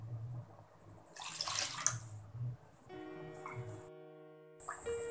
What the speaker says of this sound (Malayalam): നമുക്ക് എടുത്തു വെച്ചിരിക്കുന്ന പുളിയുടെ വെള്ളം ഒഴിച്ചു കൊടുക്കാം